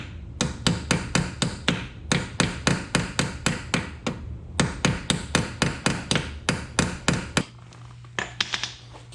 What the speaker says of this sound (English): I just give it a little tap with a hammer on the way in there.